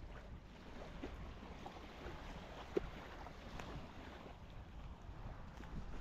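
Wind blowing by a river in late November, a constant rough rumble and gusting buffet on the microphone with soft water wash beneath, steady and unbroken, no voices.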